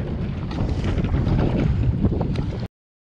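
Strong, stormy wind roars steadily across the open sea and buffets the microphone during kayak fishing, a loud, continuous blustery rush that stops abruptly near the end.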